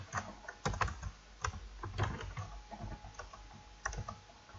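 Rapid, uneven keystrokes on a computer keyboard as code is typed for a C++ program, close and clear with no talking, bursts of clicks with short pauses between them.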